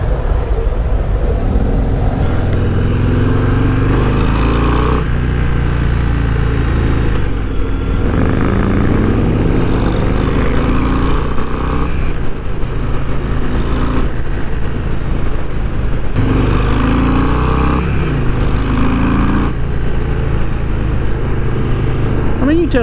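A 2024 Harley-Davidson Breakout 117 cruiser rumbles steadily while being ridden, its deep engine drone continuous and loud with wind noise, and a rider's voice comes in over it at times.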